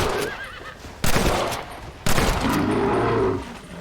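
Gunshots in Red Dead Redemption: two loud, abrupt blasts about a second apart, each leaving a sustained crackling tail, against a horse's whinny and outdoor ambience.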